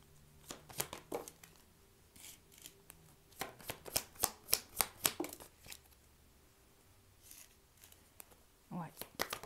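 Tarot cards are shuffled and drawn close up, with quick flurries of papery riffles and a run of sharp, evenly spaced snaps as cards are dealt, while a voice talks softly underneath.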